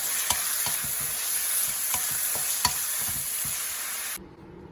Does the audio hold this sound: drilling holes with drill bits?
no